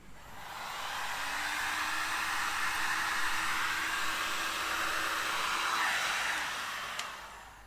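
A heat gun blows hot air to shrink heat shrink tubing on wiring, a steady rushing hiss with a faint motor hum that ramps up, holds for several seconds and tapers off with a small click.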